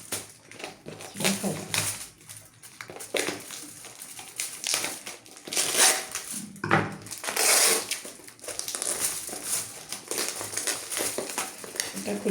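A packed takeaway container of chicken fry for four is opened by hand, giving crisp crinkling and crackling bursts of plastic and foil close by, with people talking over it.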